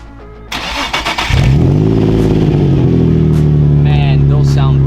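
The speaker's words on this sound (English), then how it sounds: "we got the full catback exhaust we installed" An Infiniti G35 with a full cat-back exhaust cranks over and fires up loudly, catching with a brief rev before settling into a deep, steady idle rumble close by.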